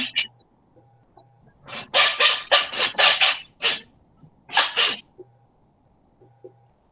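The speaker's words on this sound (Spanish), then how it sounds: "¿quién está estornudando?" A person sneezes in a classroom, with several sharp, explosive bursts close together in the middle of the clip and another pair shortly after. Quiet room tone fills the gaps, and no one talks.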